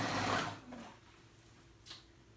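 A sewing machine runs a short zigzag stitch on swimsuit fabric, a brief quiet mechanical whir that slows and stops, followed by a faint click.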